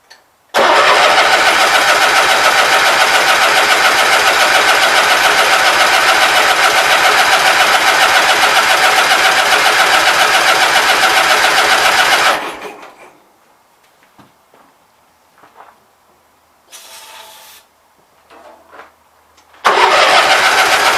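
A 1987 Gravely 20-G tractor, its carburetor freshly cleaned, fires up and runs loud and steady for about twelve seconds, then shuts off, leaving quiet clunks before the engine roars back near the end.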